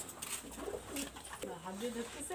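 Pigeons of a Khulna breed coo faintly in low rolling phrases, a quiet, steady murmur throughout.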